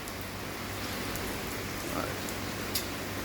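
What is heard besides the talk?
heavy pouring rain outside a shop in Colmar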